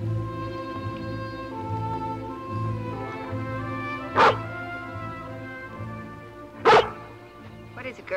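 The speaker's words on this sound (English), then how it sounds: "If it were Uncle Petrie, she wouldn't have barked" A cartoon collie in a dark wood gives two short, sharp barks a few seconds apart over steady orchestral background music, with no talking.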